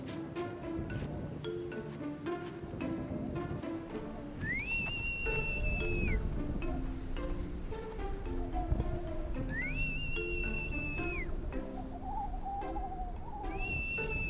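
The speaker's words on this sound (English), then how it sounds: "At the sound of the whistle, the cranes all come." A long whistle at a crane reserve calls the birds in for their corn feeding, rising in repeated sustained blasts over a busy wash of other bird calls and ambient noise.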